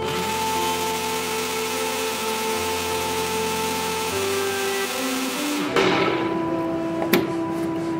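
A mixer grinder runs loudly on chutney with a little water added, a steady high motor whine that shifts pitch, then stops, followed by a rattling clatter and a sharp knock.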